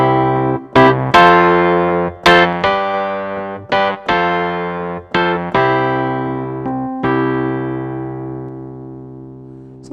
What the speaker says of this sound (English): if I play an example of a song that would just use those simple triads like that,